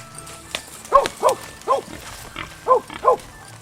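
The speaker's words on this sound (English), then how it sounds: "Even though the hogs sound like they are quite close, it is very difficult to see them in the thick brush." Wild hogs hidden in thick South Texas brush during a hunt with dogs, giving about six short, throaty grunts in an uneven rhythm, fairly close against a quiet outdoor background.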